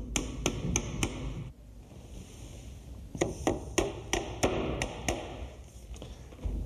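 A hammer drives nails to tack up a wooden door jamb, with a quick run of sharp, ringing taps, a pause, then a longer rhythmic series of close, crisp strikes.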